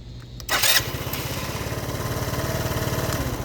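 A Lance Cabo scooter's starter with a finicky switch cranks, gives a brief loud burst, then chugs at a fast, even rhythm as the small engine turns over, close and alone.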